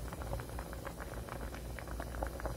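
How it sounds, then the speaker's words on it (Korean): Korean squid soup bubbles in a pot with a dense, continuous burble of small pops and gurgles at close range, and no one talks. "이렇게 오징어국 끓입니다."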